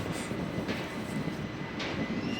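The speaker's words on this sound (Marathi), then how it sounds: "तर ही आहे दिवा रत्नागिरी पॅसेंजर" Steady rumbling of the Diva–Ratnagiri passenger train, continuous and fairly close, with faint hissing bursts rising over the noise.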